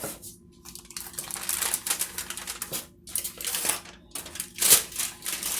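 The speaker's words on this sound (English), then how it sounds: "we will peel that aluminum foil off" Aluminum foil being peeled off a baked holiday treat turned out onto a cutting board, a close, crinkly rustling and crackling in uneven bursts with brief pauses, no talking.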